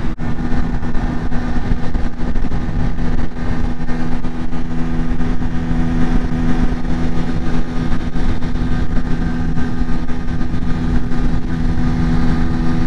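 A Lexmoto RSS Street 125cc motorcycle cruises along a motorway while overtaking lorries, giving a constant loud engine drone mixed with rushing wind and road roar, steady and unbroken throughout.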